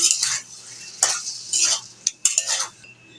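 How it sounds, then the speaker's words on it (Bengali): Fish being stirred into a spiced masala with tomato in a pan, a spoon scraping through it in several strokes while it sizzles softly; close by, no talk. "নেড়ে চেড়ে মাছটাকে ভালো করে কষিয়ে নেব"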